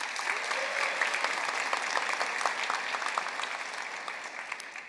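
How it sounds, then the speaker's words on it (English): A university commencement audience applauds a graduating medalist, sustained dense clapping from a large crowd that stays even throughout before easing slightly at the end. "A round of applause again for our university medalist."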